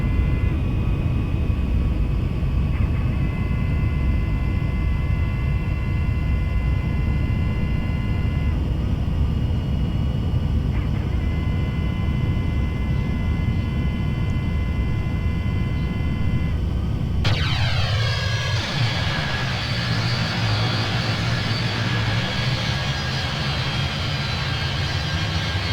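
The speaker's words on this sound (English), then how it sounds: "So we'll put the gear down and go full flaps just to stabilise the aircraft." Simulated airliner engines during final approach with gear down and full flaps in Flight Simulator X, heading into Perpignan, France: a continuous loud jet whine and rumble, with a sharp tonal shift near the end.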